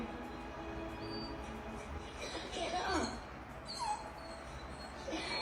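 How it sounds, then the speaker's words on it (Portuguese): A pet dog watching The Lion King whimpers and cries, letting out a few thin, high, sliding whines over a steady background of film sound. "Veja que o cachorro está chorando."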